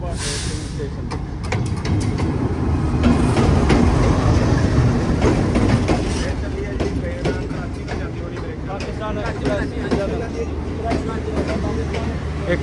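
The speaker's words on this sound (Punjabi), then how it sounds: "ਲਓ ਜੀ ਟ੍ਰੇਨ ਵੀ ਆ ਗਈ ਹੈ ਟੋਬਾ ਸਟੇਸ਼ਨ ਤੇ" The Pakistan Express from Lahore to Karachi pulls into Toba Tek Singh station with a loud, sustained rumble and rhythmic clickety-clack of wagons over rail joints, swelling then easing, with voices faint under the noise.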